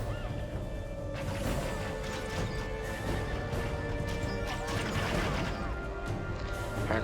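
Horses whinny and hooves clatter amid crashes and shouting on a medieval battlefield in Medieval 2 Total War, with spearmen in a schiltron facing enemy cavalry; a dense, busy battle din with sharp impacts rising over a steady roar.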